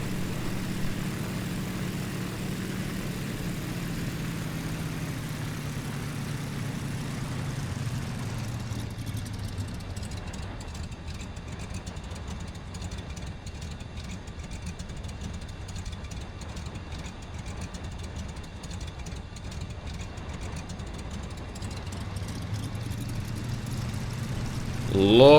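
A steady engine drone from a Yak-12A in flight in the Prepar3D flight simulator. It holds constant and fairly loud, dips a little in the middle, then swells again near the end.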